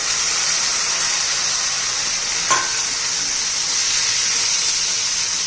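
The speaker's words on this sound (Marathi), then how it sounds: "आता याच्यामध्ये अशा भाज्या घालून घ्यायच्या आणि चांगल्या परतून घ्यायच्या." Vegetables sautéing in hot oil with cloves, pepper and cinnamon for a veg biryani, a steady close sizzle and hiss with a brief clink of a utensil partway through.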